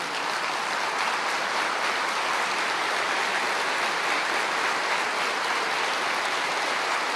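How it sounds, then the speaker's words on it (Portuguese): A church audience applauds in a dense, even wash of clapping that holds steady throughout, loud and continuous with no voices standing out. "Será que você poderia levantar em honra e aplaudir"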